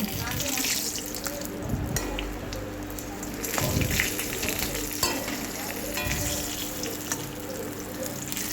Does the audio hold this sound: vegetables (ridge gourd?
yes